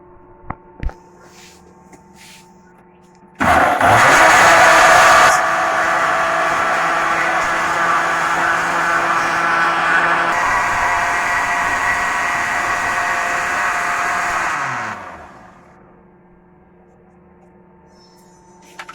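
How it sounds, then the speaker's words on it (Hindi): A peach and strawberry drink whirring in an electric blender, a loud steady roar that starts abruptly, runs for about eleven seconds with a slight drop in pitch partway, then winds down and stops; faint clicks before it starts. "जी, तो चलें इसको दोबारा से ब्लेंड करते हैं।"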